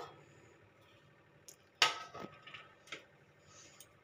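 A metal lid comes off a pot of puffed-rice sweets cooking in syrup, giving one sharp clatter followed by a few lighter clinks and taps in a quiet kitchen.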